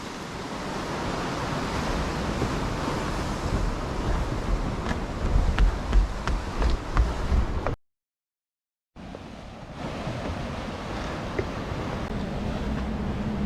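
Ocean surf washing onto a beach at sunrise on the last day of December, a steady broad roar of breaking waves with wind buffeting the microphone, briefly cutting out partway through before resuming.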